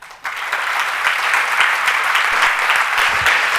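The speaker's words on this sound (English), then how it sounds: "A huge round of applause once again" An audience bursts into applause and keeps clapping steadily, a dense, loud patter of many hands.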